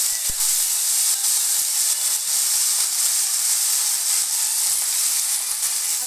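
Chopped spinach drops into a pan of vegetables frying in hot oil, setting off a loud, continuous sizzle and hiss. A few faint clinks sound at the start, and no one speaks.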